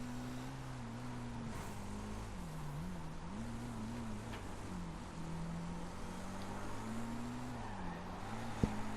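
A race car engine in the Wreckfest racing game drones continuously, its pitch dipping as it brakes hard into a corner and climbing again under acceleration, with a short sharp click near the end.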